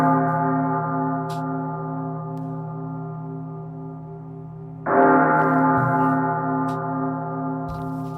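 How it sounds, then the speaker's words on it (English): Deep, resonant bell strikes ring out in mourning for two dead tigers, each long sustained tone fading slowly before another loud strike about midway, heard alone and close with no talking. "Bells for the death of the 2 tigers."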